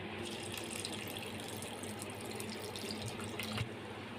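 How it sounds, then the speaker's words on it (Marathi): Half a cup of poha (flattened rice) being washed in water in a home kitchen, a steady gentle wash of running and sloshing water with a small splash near the end and no talking. "तर आपण हे पोहे चांगले धुवून घेऊया स्वच्छ."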